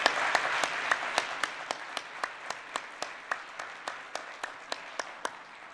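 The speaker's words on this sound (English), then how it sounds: "Let's give our participants one more round of applause." An audience applauds at the close of a student fusion presentation session: steady, fairly distant clapping with a regular beat of sharper claps running through it from start to finish.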